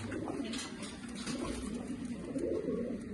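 Pigeons coo in a low, repeated rolling murmur, several birds close by and steady throughout, at what seems a pigeon loft with a brief voice faintly in the background.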